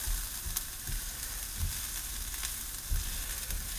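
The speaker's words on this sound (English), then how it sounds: "add our rice, and we're going to cook our rice." Rice cooks in a pan for a lemon rice pilaf with a soft, steady sizzle and a few low stirring thumps spaced through, fairly quiet and without talk.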